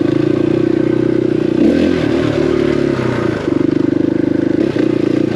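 A geared-down KTM 500 EXC-F dirt bike rides over loose, rocky coal, its engine droning loudly and close with a pulsing rhythm, rocks clattering and scraping beneath it as the throttle varies.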